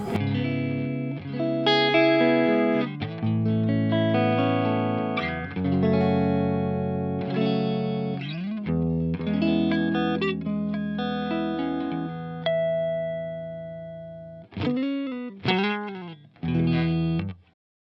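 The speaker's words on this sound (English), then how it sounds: "let's hear some of those clean tones coming out of the amp." Clean electric guitar chords and single notes ring out through a Hiwatt Custom 100 amplifier on the neck pickup, sustained and melodic, with brief pauses and a few plucked phrases near the end.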